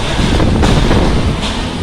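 Strong storm wind roars and buffets the microphone continuously in Pashane village, a loud, dense rush with no pauses.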